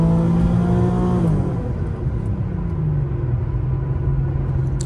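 Infiniti G35 HR sedan with a resonator-delete exhaust pulling hard, a loud, close engine drone rising in pitch over the first second, then easing into a steady lower rumble as the car keeps rolling, no talk.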